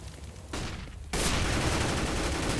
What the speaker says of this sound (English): Nice pop flash.